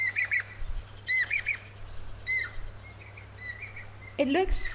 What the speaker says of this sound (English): I can hear a Jacobin's cuckoo calling here.